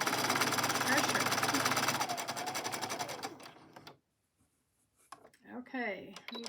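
A sewing machine stitching fabric at presser level 2, a rapid rhythmic mechanical chatter running loudly for about three seconds before stopping, followed by silence and then a brief spoken voice.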